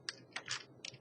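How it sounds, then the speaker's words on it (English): Quick, light keystrokes on a computer keyboard, about four soft clicks in a brief burst, close and quiet with no talking. "I'm going to type in a few keywords"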